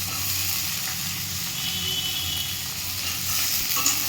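Chopped tomato is stirred into onions frying in oil for a Bengali crab curry. A steady, close sizzle carries on throughout, with faint scraping from the stirring and no voices.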